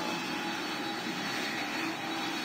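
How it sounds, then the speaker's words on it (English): A steady jet aircraft roar from a military plane in a video game fills the space, a continuous broad engine rumble with no pauses or voices. "another military plane."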